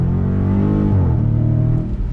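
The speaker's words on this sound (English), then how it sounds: "rumble of that glorious V8 underneath the hood, that 392" A Dodge Challenger Scat Pack Widebody's 392 V8 rumbles deep and loud under throttle, its pitch climbing steadily with the ZF 8-speed automatic, close up and without talk.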